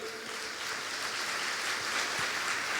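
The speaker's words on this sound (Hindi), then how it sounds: "ताली बजाई।" A congregation claps together at a Christian worship gathering, a dense, steady roar of many hands filling the room at even loudness throughout, with no voices rising above it.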